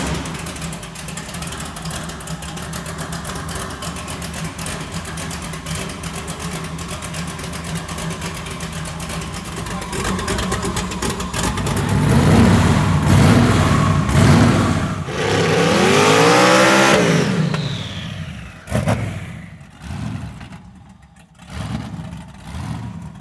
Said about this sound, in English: Let's fire this thing up and see what happens.